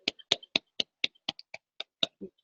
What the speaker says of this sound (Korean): 이쯤에서 박수 한번 칠까요?